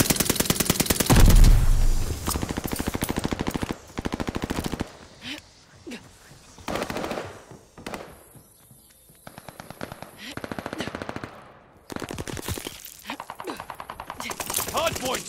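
Rapid machine-gun and rifle fire around a contested hardpoint in the shooter video game Call of Duty: Vanguard, long loud bursts broken by short pauses, with game voice announcements over parts of it.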